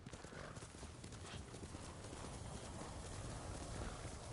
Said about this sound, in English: Just wanted to make the swooshing sound with the horse in the water.